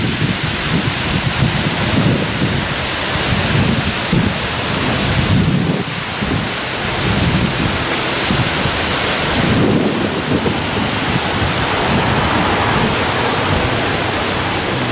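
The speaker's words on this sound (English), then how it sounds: "This is Horsetail Falls." Steady, roaring rush of Horsetail Falls in Alaska fills the whole clip, broad and continuous like a nearby waterfall, with some wind buffeting.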